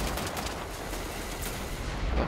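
An enemy blind-fires a gun in Wolfenstein: The New Order, a dense, continuous crackle of rapid gunfire that fills the whole moment with noisy bursts and no pause.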